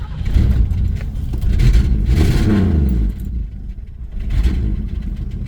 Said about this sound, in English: Sounds like a tractor, just like all old Ford 6-cylinders should.